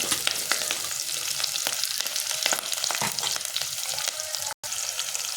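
Chopped onions and curry leaves fry in hot oil with a loud, continuous crackling sizzle, close and unbroken apart from one brief dropout, with no voices.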